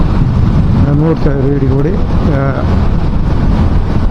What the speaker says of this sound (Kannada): ಗಾಳಿ ಭಾಳ ಇದೆ